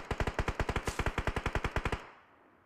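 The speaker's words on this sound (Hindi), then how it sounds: "M4 मैंने गिराई, मशीन गन मैंने उठा ली।" Rapid machine gun fire in the mobile shooter PUBG Mobile, about twenty evenly spaced loud shots in two seconds, then a short fading tail.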